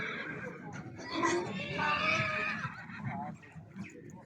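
Stallions whinny on a Kazakh horse farm, several drawn-out neighs rising and falling over a busy herd background, with people talking nearby.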